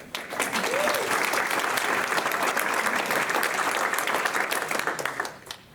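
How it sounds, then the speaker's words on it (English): An audience at a medical school biochemistry award ceremony applauds an awardee, a steady, dense wash of clapping that holds evenly for several seconds before tapering off at the end. "So well applaud for him."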